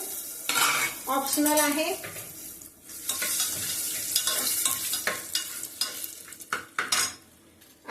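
Peanuts and cashews fry in a pan for masala rice, with a spoon scraping and stirring and the oil crackling, while someone briefly talks over the cooking.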